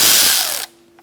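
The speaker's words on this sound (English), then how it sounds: "We're going to take out our Torx bit screws." A ratchet spins quickly, removing Torx screws inside the wheel well of a 2012-2018 Ford Focus, a brief loud burst of clicking that stops abruptly, followed by near silence.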